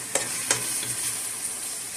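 Tomatoes being stirred into frying matar keema in a pan, a steady close sizzle with a couple of sharp spoon scrapes near the start, no talking.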